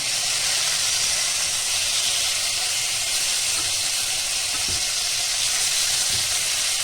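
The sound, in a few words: chicken frying in pan for sandwich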